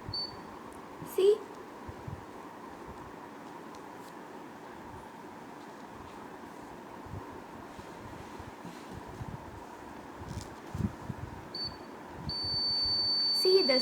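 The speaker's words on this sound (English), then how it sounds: "Now I'm going to test it with buzzer." A small buzzer wired into a conductive paint circuit gives a couple of brief high beeps, then a steady high-pitched tone near the end, over hissy background noise and intermittent talk.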